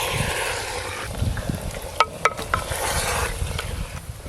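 Spices and a whole head of washed garlic being stirred together in a clay pot (handi) over an earthen stove, a steady close sizzle of frying with a few sharp clinks of the spoon against the pot midway.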